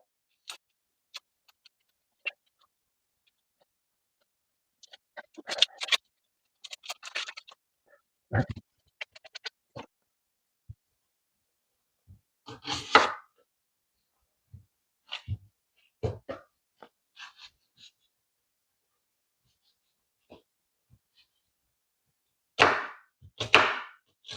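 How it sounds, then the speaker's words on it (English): An onion being peeled and cut with a knife sounds as sparse, close crackles of papery skin tearing and scattered scraping and slicing noises, separated by silent gaps. "next I'm going to use the onion. So I'm just going to cut it like this. Go ahead and peel."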